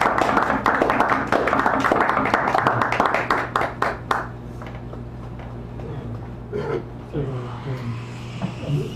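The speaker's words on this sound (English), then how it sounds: "Bring him up, please, and get a nice round of applause." Applause from an audience welcoming a poet at a reading in a San Francisco cafe, a dense burst of clapping for about four seconds that thins out and gives way to a quiet room with scattered noises.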